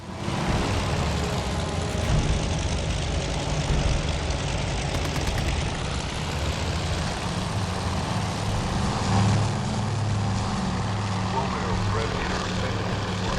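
Propeller engine drone of a Japanese float plane in a naval combat game, a steady low broadband roar holding throughout at close range, with voices talking over it.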